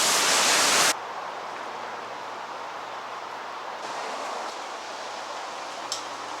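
A waterfall in the Columbia River Gorge pours with a steady, broadband rushing hiss, louder and brighter for the first second, then a constant, softer roar at moderate distance with no voices.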